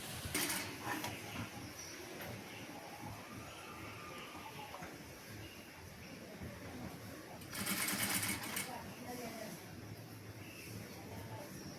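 Sewing machine stitching piping onto a nightie, its steady mechanical whir running throughout with a brief louder burst of faster stitching near the end, close and continuous with no talking.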